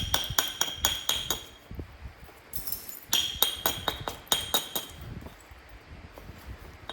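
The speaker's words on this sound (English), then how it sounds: "Now we can do a little bit of beveling back." Stone being knapped to bevel and round a blade edge: a series of sharp, clicking taps struck close by in quick bursts, with short pauses between the runs of strikes.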